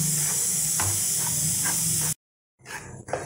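Rice flour is dry-fried in a pan without ghee for a fasting recipe, giving a steady close hiss with light scraping that cuts out abruptly and returns more faintly.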